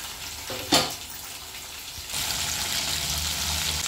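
Chicken pakoda pieces fry in a small amount of oil, giving a steady close hiss that swells louder partway through after a brief sharp clatter, with no talking.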